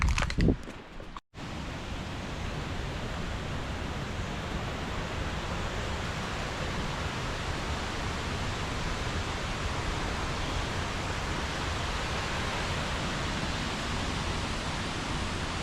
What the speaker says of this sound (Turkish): Şu anda şelalenin sesi geliyor.